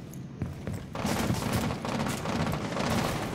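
Rapid gunfire in Rainbow Six Siege, Oregon map, shots fired down into a window from the top of a tower, dense overlapping volleys continuing loudly after a short quieter lead-in.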